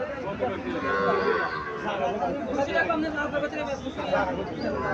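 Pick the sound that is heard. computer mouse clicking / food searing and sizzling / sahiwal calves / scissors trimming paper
sahiwal calves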